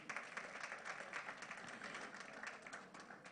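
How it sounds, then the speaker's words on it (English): Audience clapping at a book launch for a Yoruba wisdom book, honoring a woman named there; steady, fairly quiet applause from a room of people, continuous throughout with no speech. "let's clap for her"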